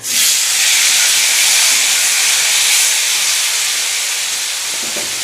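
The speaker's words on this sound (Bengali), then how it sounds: "দুটো ইলিশ মাছের মাথা আছে," Hilsa fish heads frying in a pan with turmeric, a loud continuous sizzle and hiss that stays steady the whole time, easing slightly toward the end, with no voice over it.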